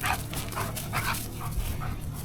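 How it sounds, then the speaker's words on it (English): An excited dog whimpers and yips close by in a rapid run of high, wavering cries and short squeaky barks, with no talk over it. "We have a very excited dog here."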